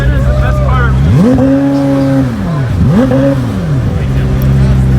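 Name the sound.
McLaren sports car exhaust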